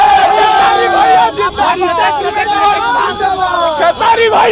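A dense crowd of excited fans outside a film screening for Khesari Lal's Farishta fills the air with loud overlapping shouts, cheers and chatter, close and continuous with sudden bursts of yelling.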